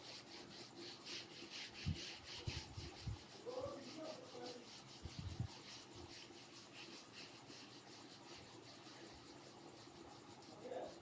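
Someone rubbing writing off a board, soft uneven scrubbing strokes in short bursts, faint and close, with low background noise.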